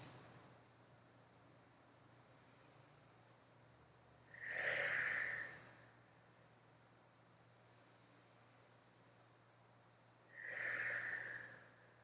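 Two slow, deep breaths are taken while resting in yoga child's pose, each a soft, airy rush of about a second and a half, spaced several seconds apart over quiet room hum.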